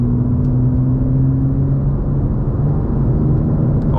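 A 2024 BMW M2 accelerates hard, its engine and road noise forming a loud, continuous low rumble heard from inside the cabin, with a rising tone through the drive.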